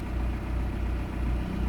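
An Audi A4 engine idles steadily with a low, even rumble, continuous and close, with no voices.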